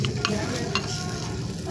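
Vegetables such as carrot and potato frying in a little oil in a pan, giving a steady close sizzle with a few brief scraping stir sounds near the start.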